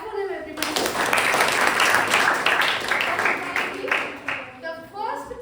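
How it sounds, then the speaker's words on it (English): Classroom students break into a burst of clapping lasting several seconds, with dense overlapping claps that taper toward the end and voices mixed in. "Clap for them, everybody."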